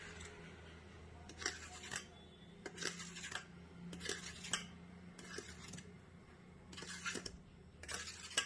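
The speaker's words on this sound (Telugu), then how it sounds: "దీన్ని ఇప్పుడు పీసెస్గా కట్ చేసుకోవాలి" A knife cuts a tray of homemade egg junnu sweet into pieces, making a series of soft, regular scraping slices about once a second, close and quiet.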